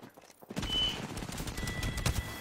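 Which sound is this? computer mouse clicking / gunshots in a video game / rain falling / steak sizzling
gunshots in a video game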